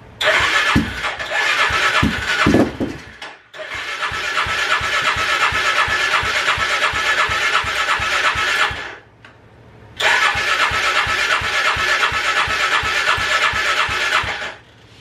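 A Polaris 500 engine cranking and catching, with rough starting bursts, then sustained running that cuts out briefly and restarts, fairly loud and close.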